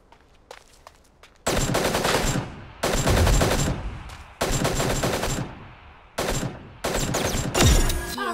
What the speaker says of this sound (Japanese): 銃声が聞こえた。